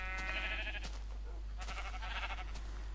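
Sheep bleating in Minecraft, a few short wavering bleats near and clear over a low steady hum, with another burst of bleats later in the clip.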